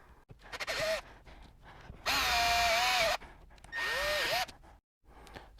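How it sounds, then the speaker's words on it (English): A power drill bores through the plastic front lip of a Porsche Cayman 987.2, three separate whirring bursts of about a second each, close and loud, with quiet pauses between them. "Now you're drilling through plastic, so you don't have to put a lot of force in it."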